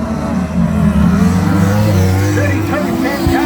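Racing sidecars roar past at Oceanview Speedway during the Karl Barrett Memorial Sidecar meeting, loud engines droning and shifting pitch as they pass close by, with an announcer's commentary mixed in.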